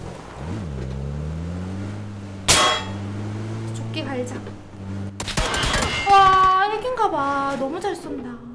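Gunfire in the battle royale game PUBG: one loud shot cracks over a droning vehicle engine, followed later by a dense burst of rapid shots and clatter, with players talking throughout.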